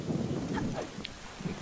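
Heavy rain and a low thunder rumble in the video game Zelda Wind Waker HD form a dense, steady wash of noise with a few brief cracks over it.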